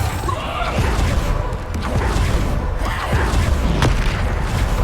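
Bombarda spell blasts in Hogwarts Legacy land as repeated heavy booms and crashes amid other combat effects, loud and close, recurring every second or so.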